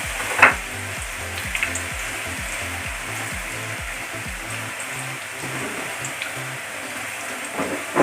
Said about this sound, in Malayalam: വെളിച്ചെണ്ണ നന്നായി ചൂടായിട്ട് ഇനി നമുക്ക് ഈ ഗോതമ്പ് നുറുക്കിയത് അരിക്കിട്ട് കൊടുക്കാം